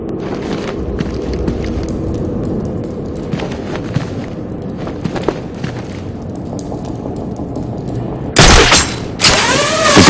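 Gunfire from a church bell tower in the video game Batman: Arkham City, loud and close, with several sharp cracks over a steady rumble of game ambience and a harsh burst of rapid shots near the end.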